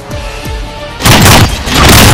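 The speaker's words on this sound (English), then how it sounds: "Who's shooting?" Loud video game gunfire from an armor-plate shooter, several heavy booming shots in quick succession, close and dominant after a quieter stretch of faint thumps.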